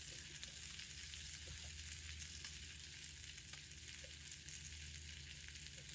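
Bacon frying in a pan, a steady, dense sizzle and crackle with fine popping spatter, close and constant throughout, with no voices.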